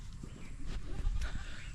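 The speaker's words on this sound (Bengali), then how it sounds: "এই যে ছাগল নিছি, ছাগল" A goat bleats briefly on a farm in a flooded village, two short nasal calls close by over low background rumble.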